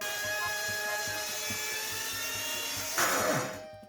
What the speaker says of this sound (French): J'adapte les dalles au système électronique qu'elles vont recevoir. Je coupe le coin central.